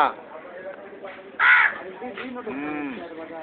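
Pet mynah bird imitating a crow's caw, a few short harsh calls close to the microphone, interleaved with a person's coaxing voice.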